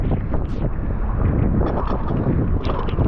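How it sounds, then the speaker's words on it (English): Strong hurricane wind gusts from Hurricane Ian in Charleston, South Carolina, roaring steadily and loudly against the microphone throughout, with dense low rumbling buffeting and no talk. "Those gusts were legit."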